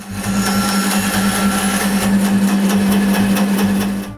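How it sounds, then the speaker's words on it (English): A loud, steady power-tool whine with a low hum runs throughout as a saw cuts wooden chair rungs to length, with a faint rhythmic pulsing. "Then I cut them to the right length."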